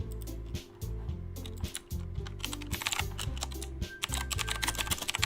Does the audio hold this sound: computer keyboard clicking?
yes